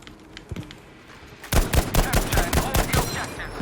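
M1 Garand rifle fire in the video game Battlefield V: a few scattered shots, then a rapid run of sharp, loud reports in quick succession, close and punchy.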